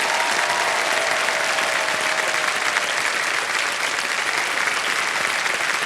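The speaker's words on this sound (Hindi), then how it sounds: "तालियां बज जाएं उनके लिए।" Studio audience applause on the KBC quiz show set fills the stretch, a steady, broad wash of many clapping hands at even loudness with no voices over it.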